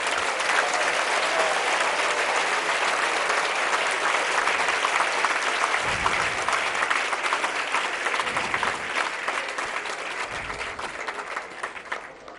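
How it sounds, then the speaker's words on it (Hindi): Sustained applause from a large audience at a foundation-stone ceremony in Jabalpur, dense and steady throughout, with faint voices and a few low thumps mixed in. "आप लोगों ने तालियां भी बजा दी।"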